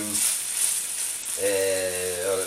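Pieces of diced pork chipolata sausage sizzle steadily in a pan, a constant bright frying hiss throughout, with a voice speaking over it in the second half.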